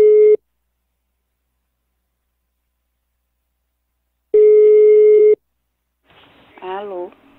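Telephone call tones: two steady electronic beeps, a short one and then a longer one about a second long after a pause, followed by a brief warbling voice-like sound, during a phone prank call.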